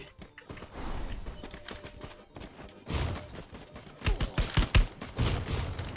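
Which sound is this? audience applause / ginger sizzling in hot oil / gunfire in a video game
gunfire in a video game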